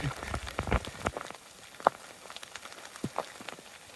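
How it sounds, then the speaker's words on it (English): Hailstones patter and tick irregularly on a surface close by, scattered sharp hits over a soft steady background hiss. "Well, it's actually hailing."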